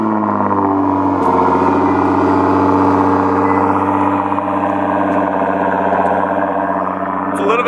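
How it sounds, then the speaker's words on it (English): A Nissan GT-R with a 4-inch exhaust starts cold and settles into a loud, deep idle. The drone is steady, with a brief rise in revs early on, and stays close and continuous throughout. "now let's get a cold start on a 4-inch exhaust on the GTR"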